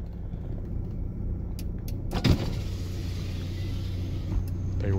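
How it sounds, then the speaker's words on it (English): Power windows on a 1987 Chrysler LeBaron Turbo Coupe whir with an electric motor hum inside the car, set against a low steady engine rumble, with a brief thump partway through. "Power windows."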